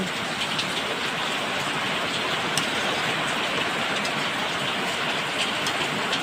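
Steady, dense patter of rain falling on a surface, continuous and fairly loud throughout with no voices.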